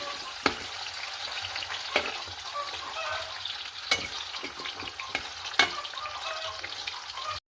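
Banana and sweet potato turon frying in hot oil, a steady crackling sizzle with a few sharp clicks and knocks from stirring utensils, close by and with no voices.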